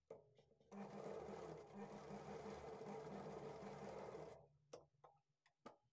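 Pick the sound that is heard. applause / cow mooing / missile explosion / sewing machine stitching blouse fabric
sewing machine stitching blouse fabric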